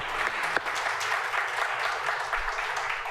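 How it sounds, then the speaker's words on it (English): An audience at a panel discussion applauds its five speakers: dense, steady clapping from a room full of people that holds at an even level for about three seconds. "Please join me in having a round of applause for all five of our speakers."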